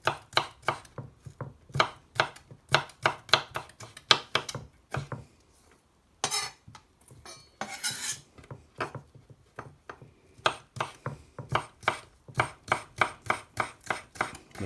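Sharp knife chopping food on a cutting board while preparing spaghetti bolognese, a steady run of crisp, close, loud chops in bursts, with a brief pause midway and no talking.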